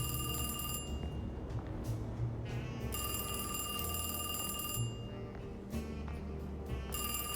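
A telephone in the horror game Alone in the Dark rings in repeated bursts, each ring a bright trilling bell followed by a short pause, over a low, dark ambient drone.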